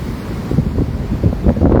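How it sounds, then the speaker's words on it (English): Rough, churning sea noise off Bali with gusty wind buffeting the microphone, loud and continuous throughout. "The sea rough"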